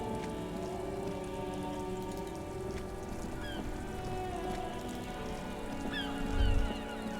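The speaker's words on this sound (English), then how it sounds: "All around you, rain falls on the great city of Revachol." Steady rain patters on surfaces across the streets of Revachol in the video game Disco Elysium, a dense continuous wash with a few faint honking calls and a low rumble swelling near the end.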